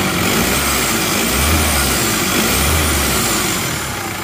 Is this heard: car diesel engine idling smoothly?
yes